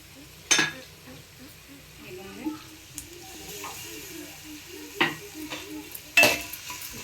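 Ginger garlic paste and spices are stirred in a pot for chicken biryani, with occasional sharp clinks of a spoon against metal over a faint sizzle, the scrapes spaced out and close.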